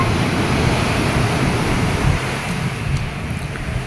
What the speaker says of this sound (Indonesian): ombaknya sampai ke darat ini ya, sampai ke tanggul ini